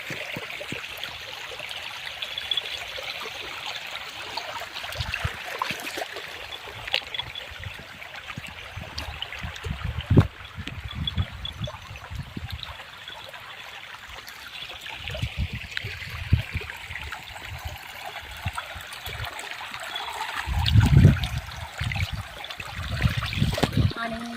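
Water rushes and trickles continuously, a steady stream swollen after heavy rain near a farmhouse, with occasional knocks and bumps and some talking at times.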